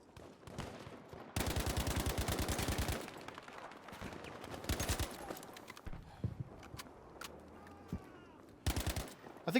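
Battlefield V gunfire on the Rotterdam map: fast automatic bursts and single pistol shots, crisp and fairly close, in short clusters with pauses between them.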